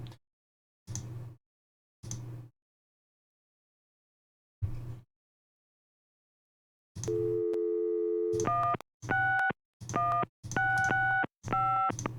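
Telephone dialing in the Gabriel Knight: Sins of the Fathers game: a few low thumps, then a steady tone followed by a quick run of distinct keypad beeps, clear and close with no talk.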